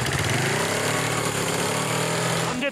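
A Lotus race car engine with carburettors not yet fully adjusted runs loud and close, a rough buzzing idle that revs on its own, ending in a brief sputter.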